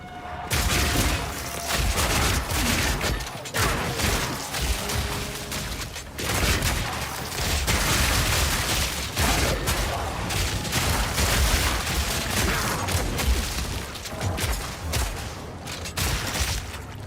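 Shotgun bleed explosions in Path of Exile 2 go off in a dense, continuous barrage of loud overlapping booms and crackling bursts. A brief gap near the start and another around six seconds break the rapid-fire blasts.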